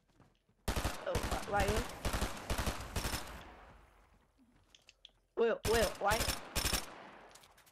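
Rapid automatic gunfire bursts in Fortnite, loud and close, one long rattling volley, a pause, then a second short volley, while a player speaks briefly.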